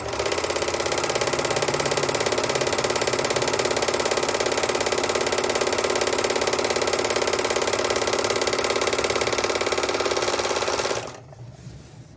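A Panavox Overlock 482 serger with a broken looper runs at a steady, fast mechanical clatter for about eleven seconds, loud and close, then stops abruptly.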